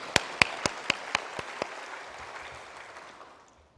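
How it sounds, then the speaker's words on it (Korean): A church congregation at a Sunday evening service gives a short round of applause, with several sharp claps early on that fade into a soft, reverberant tail and then quiet. "우리 다시 한번 박수로 영광 올려드리겠습니다"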